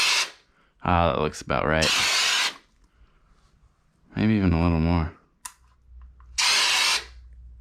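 An aerosol can sprays drywall texture onto a wall patch in two short, loud hissing bursts. A person talks between the sprays.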